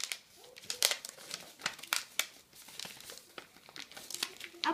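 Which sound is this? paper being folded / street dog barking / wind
paper being folded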